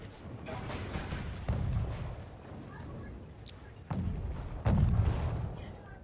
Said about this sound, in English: But we do have mortars coming in hard.